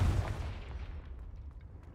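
A Confringo fire-blast spell in Hogwarts Legacy goes off as a heavy, close boom that hits at once and then rolls away into a fading rumble.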